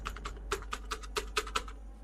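Typing a demo username and password on a computer keyboard: a quick run of about a dozen crisp, close key clicks in an uneven rhythm, with no talk.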